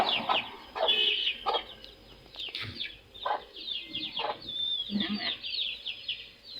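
Chickens clucking and squawking at close range, a series of sharp, repeated calls with short pauses between them, with faint background noise.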